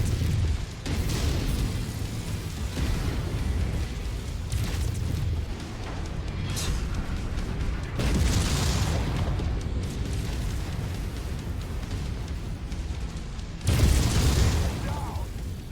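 Heavy booming explosions in Mechwarrior 5 as a target wing and its generators are blown apart, several loud rumbling blasts swelling and fading over a continuous roar.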